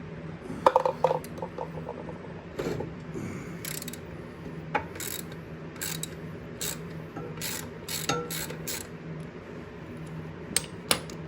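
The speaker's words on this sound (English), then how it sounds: "If anybody wants to know what the size of this bolt is, a 3/8 ratchet." A 3/8 ratchet turns a bolt on a lawn mower, with rapid, close clicking bursts and metallic handling noises in irregular runs against a faint background hum.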